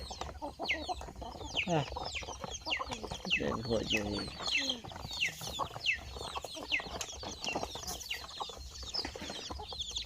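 Chickens clucking and squawking close by, a busy flock calling over one another, with people talking throughout.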